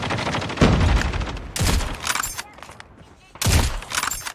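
Gunfire bursts in a competitive shooter video game scrim, sharp loud volleys separated by quieter stretches, with players talking over the action.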